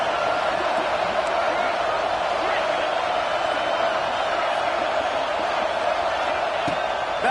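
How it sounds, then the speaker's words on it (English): Home crowd at a football game roaring steadily throughout, a dense sustained wash of cheering and noise with no clear breaks and no distinct voice standing out. "Man, this crowd really affecting the football game."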